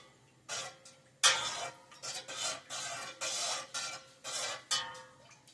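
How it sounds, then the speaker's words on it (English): A spoon stirs and clinks against a pot or cup in a kitchen to dissolve something, a series of faint, rhythmic scraping and tapping strokes repeating close by. "now I'm going to mix it a bit with a spoon so that it dissolves"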